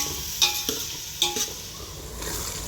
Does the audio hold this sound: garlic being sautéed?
yes